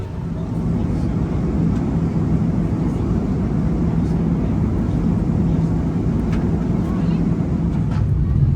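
A steady, loud roar from inside a passenger airliner cabin, with low rumble holding evenly throughout on a Brisbane to Singapore flight, faint ticks and brief clicks scattered over the drone.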